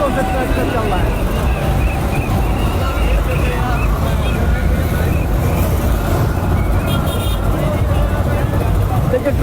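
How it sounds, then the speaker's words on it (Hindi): Tractors in a farmers' road convoy rumble past continuously, loud, with engine noise filling the scene while a crowd chatters and someone talks over it. "मैं भी रोड के बीच में खड़ा हूँ और दोनों रास्तों से ट्रैक्टर चल रहा है।"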